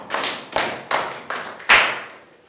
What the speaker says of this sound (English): Class! Clap for her!